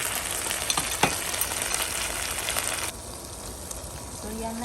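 Sardines frying in a pan with onion, garlic, ginger and tomato, a steady close sizzle with a few stirring clatters, easing down partway as the heat settles.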